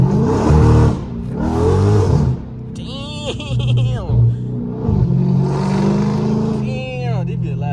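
A Scat Pack's engine revs hard in loud, rising bursts with deep rumbling between pulls, heard from inside the cabin, with voices talking over parts of it.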